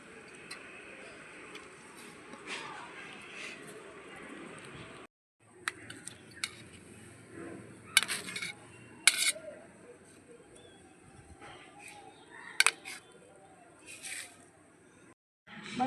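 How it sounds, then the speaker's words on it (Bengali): Knife chopping paneer into small pieces on a board in a home kitchen, a series of light, irregular taps and clicks over a quiet room hum, with a couple of brief gaps. "সিদ্ধ হতে হতে আমি পনিরটা কেটে নিই ছোটো ছোটো পিস করে।"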